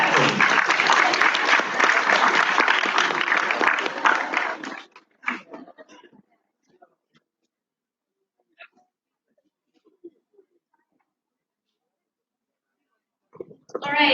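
Loud, full audience applause at an English-category debate final fills the first five seconds, then stops abruptly into near silence broken by a few faint isolated clicks and a brief burst at the end.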